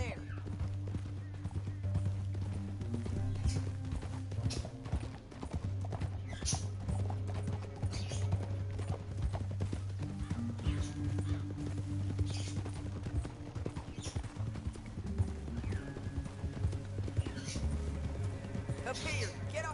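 Horses gallop in the video game Red Dead Redemption 2, their hooves clip-clopping in a continuous rhythm through a canyon chase, with gunfire, background music and someone speaking over the ride.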